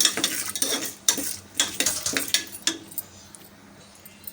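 Curry leaves, peanuts and cashews stirred in a hot pan while cooking a rice and toor dal tiffin, with repeated scraping and clinking strokes over a soft sizzle that fades toward the end, no voices.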